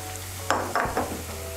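Ginger paste and garlic paste go into browned onions sizzling in a pan for a Bengali dish. A steady sizzle runs under three quick spoon clatters and stirs close by, and no one speaks.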